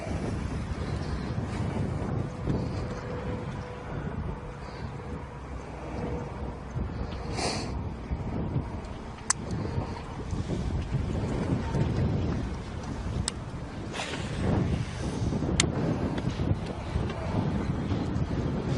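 Strong south wind blowing over a lake during a bass fishing tournament in Kissimmee, steady rough rumbling buffeting on the microphone with a few sharp knocks, continuous and close, without talk.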